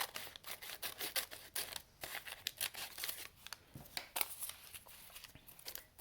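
Scissors snip through a strip of craft paper for a Chewbacca bookmark, a steady run of short, crisp cuts close by, repeated many times with no talk.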